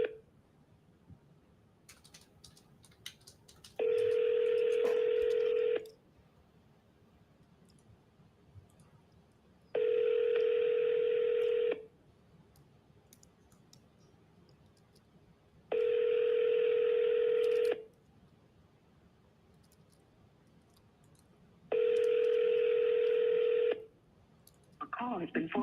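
Outgoing phone call ringback tone: four long, evenly spaced rings about six seconds apart, moderately loud, with quiet background between them and no talking.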